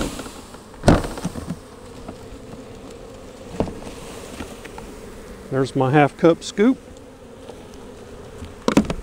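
Honey bees knocked down into a corner for an alcohol-wash mite check, buzzing steadily close by with a few sharp knocks and handling thuds; a person speaks briefly.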